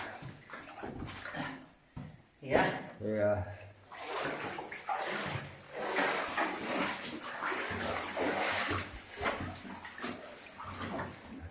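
Splashing and sloshing as people wade through water inside the Fotty & Bowydd slate mine, close and uneven, with voices talking over the wading.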